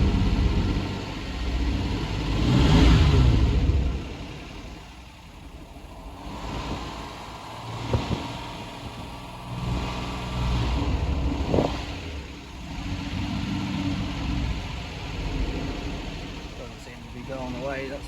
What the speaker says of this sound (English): Got it to rev. Dare say that there's a bit of noise in the top end there